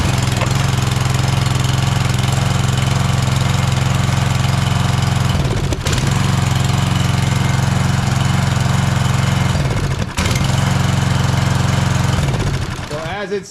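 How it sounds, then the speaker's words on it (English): An idle-down pressure washer engine idles at low RPM with a steady, loud mechanical chug, briefly interrupted by two short knocks or clunks, then winding down near the end. "it's idling at a low RPM, and there's a reason for that, because it's an idle down pressure washer"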